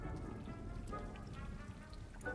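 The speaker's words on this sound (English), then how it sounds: "A rain cloud." Soft, steady patter of rain from a conjured rain cloud spell in Hogwarts Legacy, a faint continuous drizzle of droplets with a few brighter splashes near the end.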